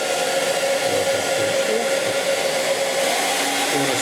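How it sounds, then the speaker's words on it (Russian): An ordinary household hair dryer runs close by, blowing hot air in a loud, steady whoosh with a constant motor whine and no change in pitch throughout. "У нас есть вот такой вот фен. Самый обычный, простой фен."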